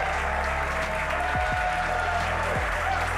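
A crowd at SpaceX Mission Control in Hawthorne claps and cheers steadily through a broadcast of a booster landing, a continuous wash of applause under a low hum with a few descending tones.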